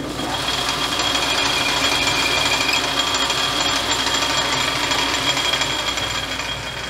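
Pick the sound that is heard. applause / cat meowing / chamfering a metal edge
chamfering a metal edge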